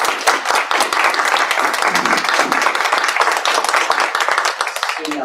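An audience at a justice and access conference session gives a sustained round of applause for a speaker, dense clapping filling the room steadily for several seconds before tapering slightly at the end.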